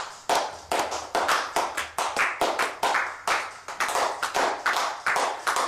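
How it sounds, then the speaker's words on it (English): Sparse hand clapping follows a tribute to the Patriots kicker Gostkowski, coming in about a dozen separate loud claps with uneven gaps and little else around them. "I do want to give a special round of applause to our world-renowned kicker"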